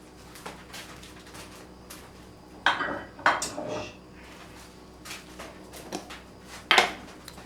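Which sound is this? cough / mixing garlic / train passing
mixing garlic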